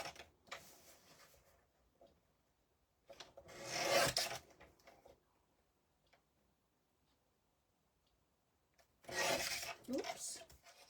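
A craft cutter trimming small craft pieces, heard as two separate bursts of close rasping, scraping cuts with quiet gaps between them.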